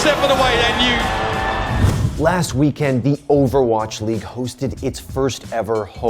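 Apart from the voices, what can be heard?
No everyday noises stand out.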